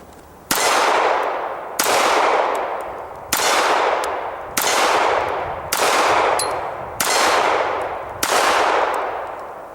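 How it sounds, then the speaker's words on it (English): A Sterling M-400 pistol fires outdoors, seven loud single shots at an unhurried, fairly even pace, each sharp crack followed by a long decaying echo. "let's put the safety off this time, see if it goes boom."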